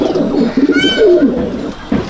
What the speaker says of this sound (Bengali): দেখেন এটা হচ্ছে কালী ঘরের পায়রা